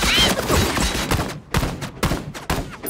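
Gunfire from a sniper in an animated show comes as a burst of sharp, loud shots in quick succession, with brief gaps of quiet between the cracks and no clear talking.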